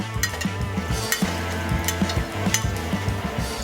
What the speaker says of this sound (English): we're gonna go ahead and add a little bit of the pasta, our mini penne